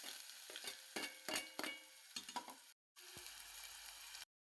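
Onion sizzles in hot oil in a kadhai while a spoon stirs it, a steady frying hiss broken by scraping strokes, close and clear, with two brief dropouts.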